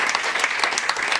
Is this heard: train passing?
no